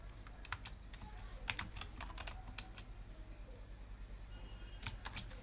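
Faint clicks of a computer keyboard as code is typed, coming in scattered bursts over a low steady room hum.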